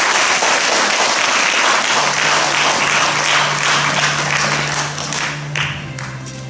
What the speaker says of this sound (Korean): 둘째 마당을 훈훈한 박수로 청해 듣겠습니다